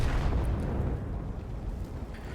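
A Leopard 1 tank gun fires in World of Tanks, producing a heavy booming blast that rolls into a long, low rumbling decay, loud and unaccompanied by speech.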